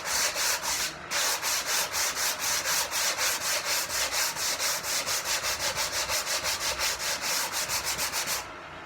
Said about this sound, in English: I'm going to use some 120 grit paper to take that down.